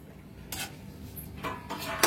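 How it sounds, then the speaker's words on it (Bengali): A metal lid is set onto a pot of goat meat cooking with chuijhal, giving a few light clinks and scrapes in close succession over a faint background hum. "এবার আমি একটু ঢেকে দেবো"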